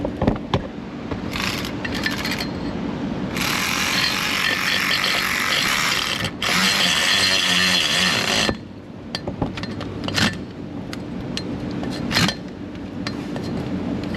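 Electric ratchet snugging an 11 mm bolt on a high-mileage LBZ Duramax engine, a close whirring buzz lasting several seconds and broken by short pauses, set over a steady background hum.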